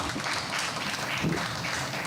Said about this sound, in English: I think he deserves a better round of applause than that.